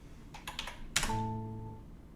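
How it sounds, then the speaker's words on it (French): Typing on a computer keyboard in a children's reading game, a quick run of close key clicks followed by a sharper keystroke, then a soft sustained electronic tone from the game. "on écrit avec le clavier."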